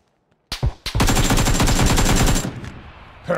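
AKM rifle in PUBG firing a rapid, steady burst of automatic shots after two or three single cracks, loud and close, then trailing off into echo.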